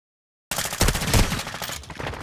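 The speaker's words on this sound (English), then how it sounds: "You are taking effective fire." Video game gunfire erupts in a sudden loud burst of rapid shots and continues as sustained firing to the end, with no talking over it.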